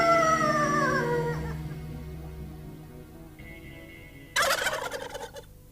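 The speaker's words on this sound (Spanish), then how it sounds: "la mayor aportación de la avifauna mexicana al mundo es el pavo, o como se le conoce en México, el guajolote" A wild turkey gobbles in the Mexican mountains, a loud rattling call with a descending series of notes near the start, followed by a second sharp burst of gobbling near the end.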